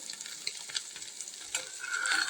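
Dried fish fries in a pan and is turned over, a continuous sizzle broken by several scraping stirs, with the frying growing louder toward the end and no speech.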